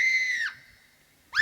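A piercing, high scream-like effect holds steady, then bends downward and fades into a thin lingering tone before another shrill cry bursts in at the end; used as a spooky sound effect during a religious storytelling session.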